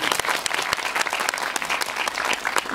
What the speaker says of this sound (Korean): 깜짝 등장해준 주연인 분께 다시 한번 박수 부탁드리겠습니다